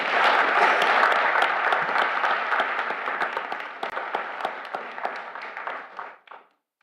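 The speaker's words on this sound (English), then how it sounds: "Give yourself and the Rotary and the community a big round of applause for what you guys have done" A meeting audience gives a big round of applause, dense steady clapping that slowly thins and fades out over several seconds before stopping.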